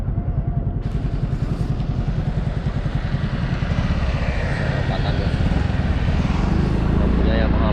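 A Yamaha Fazzio scooter fitted with upgraded rollers and a double clutch lining, riding with a loud, steady engine drone and wind rumble close to the rider throughout.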